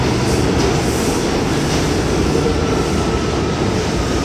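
A New York City subway C train pulls into West 4th Street station with a loud, close, continuous rumble of wheels on rails and no voices.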